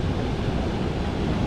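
River water flowing from waterfalls in Meghalaya at Shnongpdeng, a dense, steady roar of rushing water, loud and unbroken with no talking.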